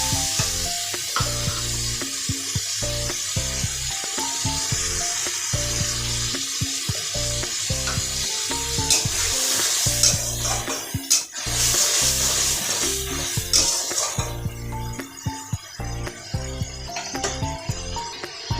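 Tomato paste and salt go into onions frying in a pan for chicken kosha, giving a steady loud sizzle with rhythmic stirring scrapes throughout.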